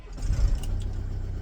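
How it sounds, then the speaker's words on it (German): A car engine turning over and catching from inside the vehicle, a brief low rumble settling into a steady idle, with a faint rattle near the start. "Ich bin im Fahrzeug und jetzt starten wir den Motor."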